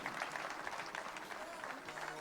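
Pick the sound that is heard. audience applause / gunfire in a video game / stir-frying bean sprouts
audience applause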